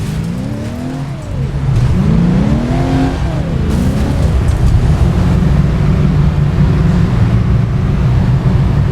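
A car engine roars steadily with a rising, swooping whine as the car slides and spins in the PC video game Alarm for Cobra 11: Crash Time 4, loud and continuous throughout.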